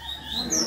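Brief chirps and tweets from caged songbirds, papa-capim and coleiro, close by, with a faint background hum and no talking.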